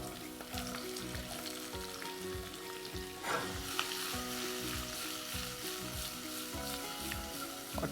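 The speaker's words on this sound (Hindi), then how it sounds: "जीरा डालते ही इस तरीके से चटकना चाहिए। थोड़ी सी लौंग, थोड़ी काली मिर्च" Cumin, cloves, black pepper and onion sizzle steadily in hot oil with a dense, constant crackle and a brief stirring scrape midway, no voices.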